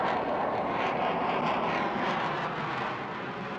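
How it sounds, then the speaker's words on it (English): The jet engine of a Vickers Supermarine Attacker, a Navy jet fighter, roars steadily and loudly throughout, a continuous broad rumble with no break. "come first pictures of the Navy's own jet fighter, the Vickers Supermarine Attacker,"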